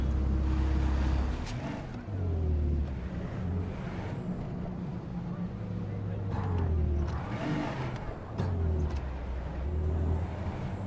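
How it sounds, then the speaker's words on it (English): A Porsche is driven in the video game Cyberpunk 2077, its engine humming steadily and rising and falling in pitch as it accelerates and shifts, with whooshing passes layered over the drone. "Now, I'll take the Porsche for a while."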